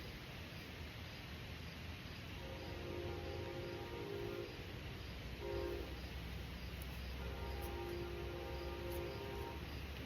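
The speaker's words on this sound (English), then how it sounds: "You can hear the trains." Trains pass at a distance, a low steady rumble with drawn-out horn blasts sounding twice over constant background hiss.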